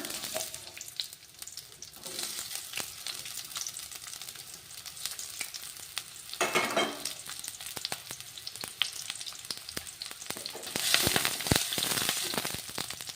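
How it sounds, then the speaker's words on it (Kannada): Sliced onions frying in hot oil for restaurant-style vegetable noodles, a continuous crackling sizzle with scattered pops and bursts of stirring, rising louder near the end. "ಇವಾಗ ನೋಡ್ರಿ, ಉದ್ದುದ್ದಾಗಿ ಕಟ್ ಮಾಡಿರುವಂಥ ಉಳ್ಳಾಗಡ್ಡಿ ಹಾಕೋಣ"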